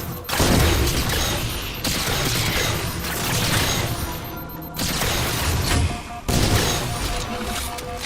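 Rapid bursts of light rifle fire in Halo 4 against crawlers in trees, loud and close, in several dense volleys separated by short pauses, with no talking.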